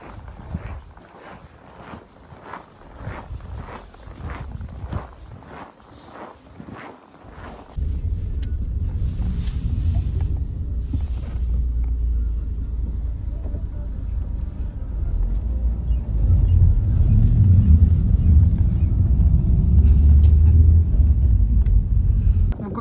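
A UAZ vehicle drives past on a December street in Syktyvkar, Komi: a series of crisp knocking steps gives way abruptly to a deep, loud, close rumble that swells and holds.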